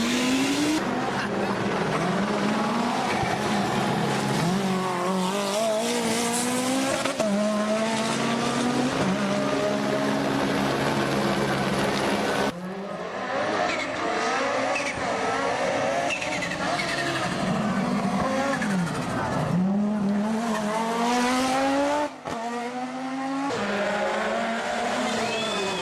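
Group B and legendary rally cars racing flat out, engines screaming and revving through gear changes close by, continuous loud roar with shifting pitch and brief lifts between passes.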